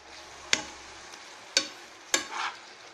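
Spinach being sautéed and stirred in a pan over a low-to-medium flame for keerai poriyal, three sharp scraping stir strokes over a faint, steady sizzle, no voices.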